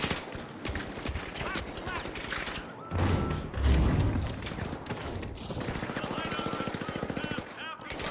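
Automatic gunfire and turret shooting from a Nioh 2 game session, dense and continuous throughout with heavier thumping bursts in the middle, mixed with game noise and some speech underneath.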